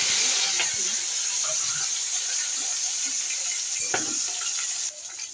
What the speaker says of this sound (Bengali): ভালো করে ভেজে নেবো এগুলো, কাঁকড়াগুলো।